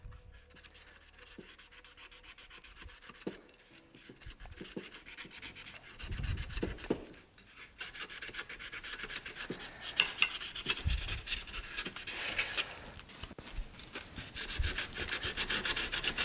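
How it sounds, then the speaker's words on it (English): Sandpaper rubbing and scratching across the platter of an opened hard drive, a steady gritty rasp with repeated back-and-forth strokes that grow busier and louder toward the end, close and alone. "So now that we have it open, you go with a sandpaper on it like that."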